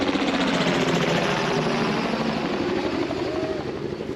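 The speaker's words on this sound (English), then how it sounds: "Helicopter coming over." A helicopter passes overhead near a Florida beach, its rapid rotor chop loud and steady throughout, with a faint voice underneath.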